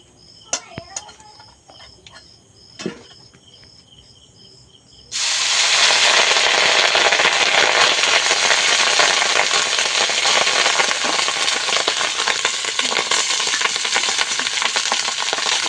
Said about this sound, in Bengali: এবার এই তেলের মধ্যে ভাতটাকে আমি ভেজে নেব।